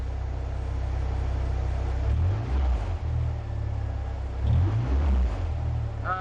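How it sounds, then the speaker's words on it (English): Triumph GT6 with a newly installed engine, idling after its first start and then given a couple of light throttle blips, a low rumbling idle swelling into two brief revs, close and alone. "We'll give it a little bit of gas just to see what happens."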